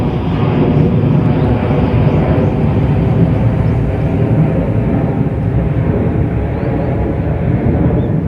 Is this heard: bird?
no